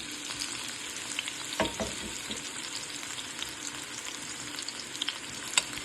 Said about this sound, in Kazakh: Майымыз қыза бастаған кезде пияздарымыз саламыз.